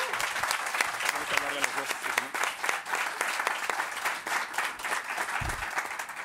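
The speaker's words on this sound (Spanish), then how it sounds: "Un aplauso muy fuerte" Strong applause from a live audience at a Campus Party presentation event, dense steady clapping filling the whole stretch with scattered voices underneath.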